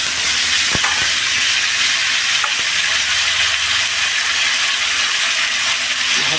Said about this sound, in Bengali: সর্ষের তেল গরম করে নিয়েছি